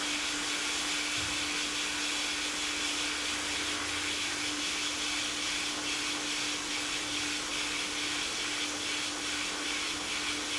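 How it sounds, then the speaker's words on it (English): Hot air plastic welder blowing steadily as a filler rod is fused into a cracked plastic headlight housing, a continuous close airy hiss with a constant tonal hum throughout and no talk. "Just let the rod do the work as the hot air strikes the plastic, creating fusion."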